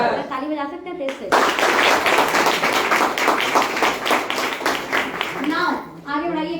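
A seminar audience bursts into loud, rapid clapping that starts abruptly and keeps going for about five seconds, with a speaker's voice just before and after it.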